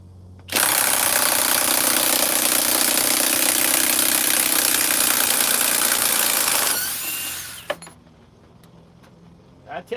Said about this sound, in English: I'm going to use a high torque impact wrench.